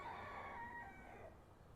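Chickens in a coop cluck and crow faintly during a short burst, with a rooster's drawn-out call standing out.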